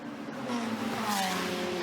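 A Ferrari Challenge race car engine drones and climbs in pitch steadily uphill at Imola, heard from a moderate distance with a continuous rushing roar and no voices.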